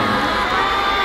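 A dense concert crowd in Manila cheers and screams continuously, a loud, steady wall of high voices with no break.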